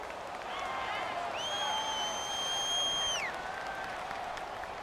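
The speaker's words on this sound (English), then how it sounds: "the crowd getting into it as we come up on a big third down" A football stadium crowd roars through a Packers vs. Bears game ahead of a big third down, a broad sustained wash of cheering with a loud whistle-like tone rising above it midway.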